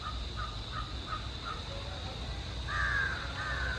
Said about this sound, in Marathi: कावळा बघा